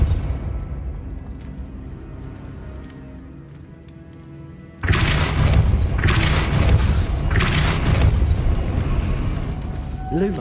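The Depulso spell is cast in the video game Hogwarts Legacy: a sudden loud burst partway through, followed by rolling booming blasts over a background of game music.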